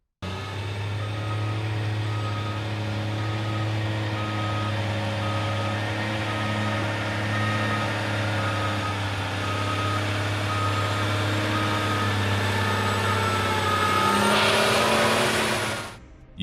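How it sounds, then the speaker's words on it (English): A heavy truck reverses slowly along a slippery, muddy and icy road, its loud steady engine drone running beneath a regular series of backup beeps, close and continuous with no voices. "a truck driver carefully reverses his heavy vehicle on a slippery, muddy, and icy road"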